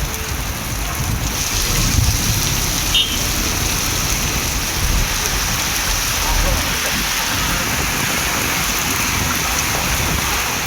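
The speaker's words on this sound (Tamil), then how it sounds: "சிவகங்கை மாவட்டத்தில் காரைக்குடி மற்றும் சிங்கம்புணரி சுற்றுவட்டார பகுதிகளில் கனமழை கொட்டி தீர்த்தது" Heavy rain pours down in Karaikudi, Tamil Nadu, a dense steady hiss of rainfall on surfaces, loud and unbroken throughout with no voices.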